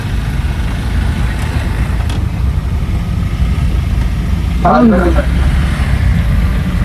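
Auto rickshaw ridden through traffic, giving a steady low engine rumble throughout with a brief voice or horn-like tone partway through.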